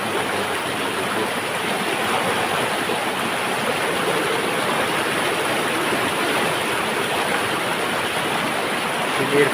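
A clean river in a remote Kalimantan village flows downstream toward Sumedang with a steady, broad rushing hiss that holds at an even level throughout, and no voices are heard.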